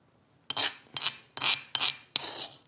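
Salsa scraped around a stone molcajete, giving five short, separate raspy scrapes in a steady rhythm, close and clear with no talk.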